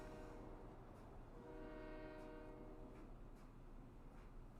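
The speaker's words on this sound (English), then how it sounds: "Here comes the long train." A long freight train passing in the video game American Truck Simulator: a steady, quiet rumbling roll with a sustained horn-like tone swelling in the middle, the whole passage fairly faint.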